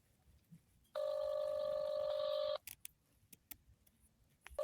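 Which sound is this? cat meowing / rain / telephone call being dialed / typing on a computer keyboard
telephone call being dialed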